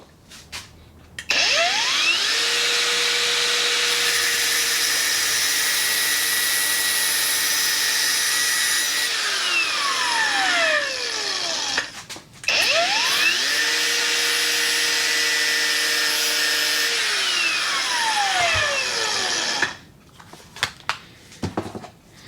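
Power tool cutting parts for a Fly Wing Bell 206 rotor head, two long whining runs that spin up, hold a loud steady drone and wind down, with a short pause between them.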